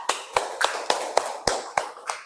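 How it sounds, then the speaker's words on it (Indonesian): Classroom applause for student groups presenting digital posters, heard as a handful of distinct, evenly spaced rhythmic claps, close and clear, in a regular unison beat. "kita beri tepuk tangan teman-teman kita"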